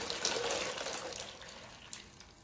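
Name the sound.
tea poured over ice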